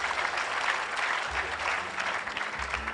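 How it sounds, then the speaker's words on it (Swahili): A crowd applauds steadily at an outdoor gathering of political leaders, sustained clapping filling the space as a woman senator is welcomed to the podium, with no speech over it. "Can you clap for Madam as she comes?"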